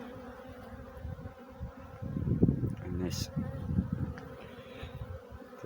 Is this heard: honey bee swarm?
yes